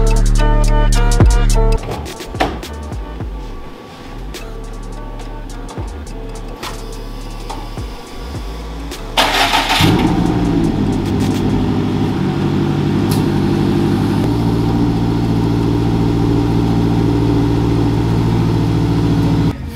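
A Subaru WRX engine cranks with a few sharp mechanical clatters, then catches halfway through and settles into a loud, steady idle close by.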